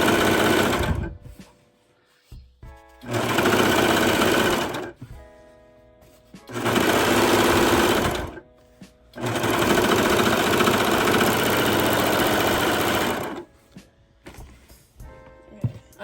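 A Brother serger sewing machine runs in three loud bursts of steady whirring stitching, separated by short quiet pauses, with no talk.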